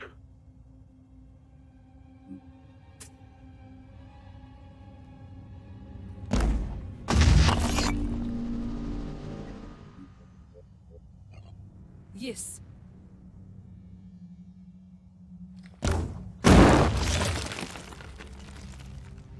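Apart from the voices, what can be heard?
grenade explosions in a video game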